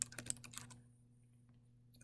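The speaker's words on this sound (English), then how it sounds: "I'm just randomly clicking on any keys here." Computer keyboard typing, keys pressed at random in a quick run of close clicks over about the first second, then near quiet with a few faint taps and a last click at the end.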